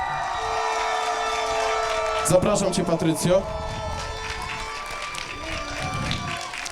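Crowd applause and cheering at the Miss Wenus Kortowiady 2013 beauty pageant award ceremony, a steady wash of clapping with a brief louder burst of whoops in the middle, mixed under an announcer speaking over a PA with music.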